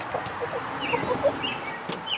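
Chicken clucks and chirps in a home garage, a few short scattered calls over faint background noise, fairly quiet and close.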